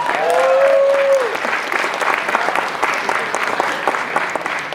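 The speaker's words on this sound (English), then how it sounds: "Can I get a little applause for that?" A stand-up comedy club audience applauds, with dense, loud clapping and a few whoops, beginning with a high whistle and continuing steadily throughout.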